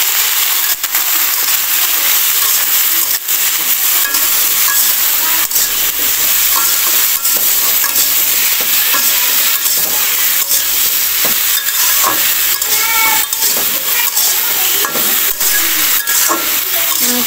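Vegetable curry fries and sizzles steadily in hot oil with cumin, stirred continuously with a spoon scraping the pan, a dense close hiss running throughout with no talk.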